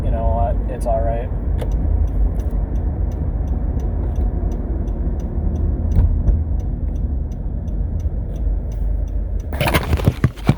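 Steady engine and road rumble heard from inside a moving car, continuous and fairly loud, with a few faint ticks and a brief clatter near the end.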